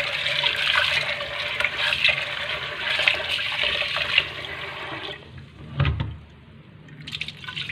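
Glutinous rice being rinsed in water, with a steady sloshing, running-water wash for several seconds that quiets briefly near the end before resuming softly, alone without talk.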